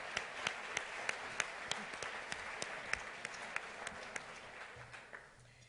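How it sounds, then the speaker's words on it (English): Audience applause at a Churchill Club event, many hands clapping steadily with a few sharper nearby claps standing out, gradually tapering off toward the end. "let's give them a round of applause to thank them"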